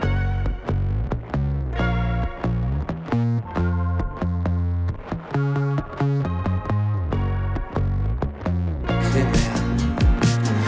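A Serum software synth plays rhythmic, plucked chord stabs with a bright, buzzy edge, ending in a noisy, shimmering swell.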